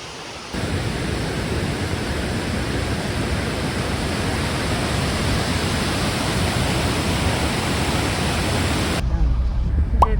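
A steady, loud roar of rushing water from a waterfall on a Hawaiian jungle trail, continuous and broadband from start to finish, cutting off abruptly at the end.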